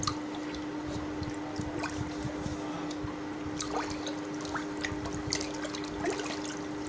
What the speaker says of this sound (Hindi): अब मैं इसमें ये सारा तुख्म लगना डाल दूँगी